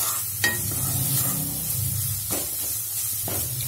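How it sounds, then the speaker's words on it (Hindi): Ground spices and garam masala roast in a pan over low gas, a soft continuous sizzle broken by a few sharp scraping stirs. "मिक्स कर लेंगे इसे अच्छे से और मसालों को हम एक मिनट के लिए भून लेंगे।"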